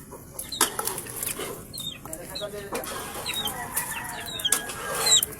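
Chickens cluck outdoors in scattered short bursts over a faint hiss, with a few sharper chirps and wing flaps, moderately close and fairly quiet.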